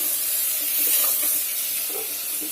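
Tomatoes hit a hot pan and sizzle, producing a steady, close hiss with faint crackles throughout and no talking.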